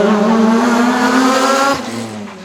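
A race car at full throttle on a street circuit at a motorsport festival gives a loud, steady engine drone with a strong buzzing harmonic tone, then briefly eases off as it pulls away. No voices can be heard.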